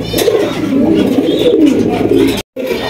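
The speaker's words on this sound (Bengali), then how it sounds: "সুপার কোয়ালিটির এক জোড়া লাল কবুতর দেখতে পাচ্ছি" A pair of red pigeons coo close by in a continuous, loud, rolling murmur that is briefly interrupted near the end.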